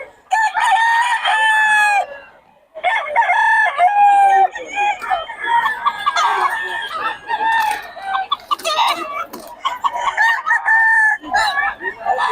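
A flock of quality chickens at a poultry seller, including a black hen, clucks continuously while a rooster crows loudly nearby, the calls overlapping in a dense, close barnyard chorus.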